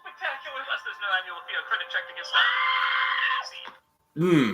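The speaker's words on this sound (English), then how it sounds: "That sweet high pitched scream, Dragon." A high-pitched scream from a movie clip plays loudly, first as a wavering, shrill cry and then as a sustained piercing shriek, cut off by a short silence and followed by a final brief yelp.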